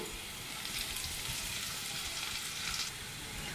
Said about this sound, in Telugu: కొంచెం క్యారెట్ ముక్కలు వేగగానే పచ్చిమిర్చి, ఉల్లిపాయ ముక్కలు వేసుకుందాం.